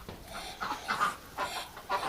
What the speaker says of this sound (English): Oh, look at the ducks in here.